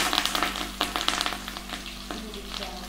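Whole spices, curry leaves and chillies sizzle and crackle in hot oil for a veg pulao tempering, a close, steady frying hiss with sharp pops as ingredients drop in, with no talk.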